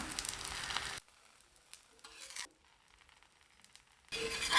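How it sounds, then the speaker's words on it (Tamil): Aloo paratha frying in a little oil on a pan, with a soft sizzle that cuts in and out: a burst at the start, a near-silent stretch with faint crackles, then the sizzle returns louder at the end. "இப்போ உருட்டி வச்சுருக்கிற ஆலு பரத்தவை சேர்த்துக்கலாங்க சுற்றிலும் கொஞ்சமாக எண்ணெய் விட்டுக்கலாம்"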